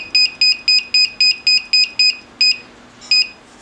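A T89C2051 4-digit digital electronic clock kit gives a loud, close string of about ten sharp electronic beeps at an even, quick pace, slowing for the last two, with no voices.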